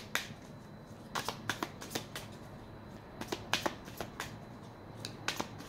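Tarot cards are shuffled close up in a quiet room, producing repeated quick riffling snaps and flicks that come in irregular bursts.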